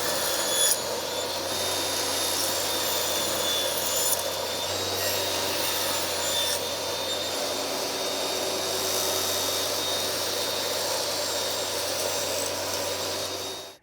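A saw cuts the remaining wooden picture-frame pieces set against a stop block, giving a steady, moderately quiet whirring grind that runs almost unbroken for about thirteen seconds.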